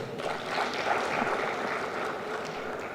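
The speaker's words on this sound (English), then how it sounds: "He deserves a hand clap." An audience at an Africa industrialisation week conference applauds a speaker, a steady broad wash of many hands clapping that holds evenly throughout with no talk over it.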